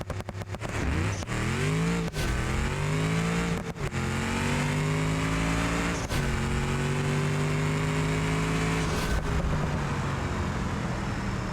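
A manual-transmission car in BeamNG launches off a two-step with a 500-shot nitrous kit. The engine roars loudly and climbs in pitch through several hard gear shifts, each marked by a brief drop before it winds up again.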